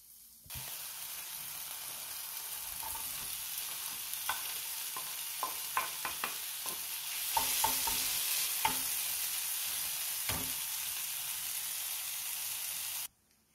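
Squash flesh fries in a pan with a steady close sizzle, punctuated by scattered clicks and scrapes as it is stirred, continuing alone for about twelve seconds before cutting off.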